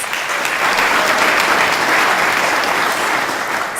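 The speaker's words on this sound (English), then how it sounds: "Let's give them a big round of applause." Audience applause at the Namibia Sports Awards 2018 ceremony, a steady dense clapping from a large crowd that holds at an even level for about four seconds with no talk over it.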